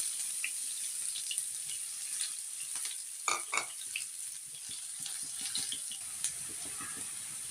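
An egg frying in a pan for a simple home meal, with a steady, hissing sizzle and a few sharp crackles and spatters, close and alone.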